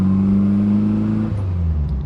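A 1968 Volkswagen Beetle with upgraded suspension drives along, its engine giving a steady, loud mid-low drone that shifts pitch slightly partway through, heard close and alone.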